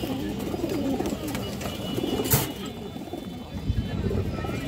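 Khaki female pigeons coo softly and repeatedly at close range, low throaty calls with a few flutters and a voice in the background.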